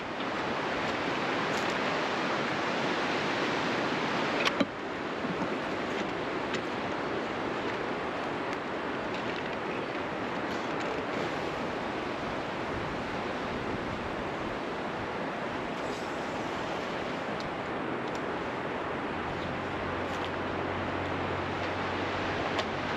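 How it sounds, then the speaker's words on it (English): Wind rushes steadily through trees overhead at a sheltered mountain campsite in the Sierra, a broad continuous roar with one brief knock near the start. "There's a lot of wind in the trees above me, and I'm not blowing around."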